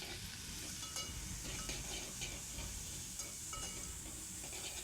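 Onions and finely chopped green chillies stirred in a pan on the stove for a sweet corn chaat, giving a soft steady sizzle with faint scraping stir strokes throughout.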